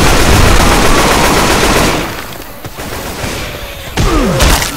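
Rapid automatic gunfire in the zombie shooter Left 4 Dead 2, loud and close, a dense rattling burst that thins into scattered shots before another heavy volley near the end.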